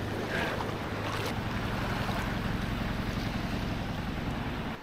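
Sea waves washing onto a beach at a riverside and seaside campsite as the tide rises, a steady continuous roar of surf with wind, loud and close throughout, no talking.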